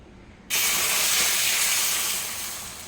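Dosa batter is poured onto a hot oiled pan and breaks into a sudden loud, steady sizzling hiss about half a second in, which then fades slowly as it cooks.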